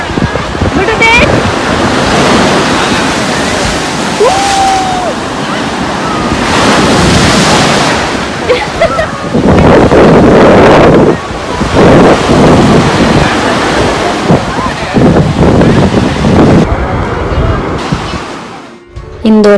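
Ocean waves break and wash up the sand on the beach at Kanyakumari, a loud, continuous roar with rising and falling surges and wind buffeting the microphone.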